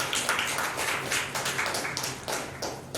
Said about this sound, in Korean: 올해도 열심히 쓰라고 격려의 박수 한번 주시기 바랍니다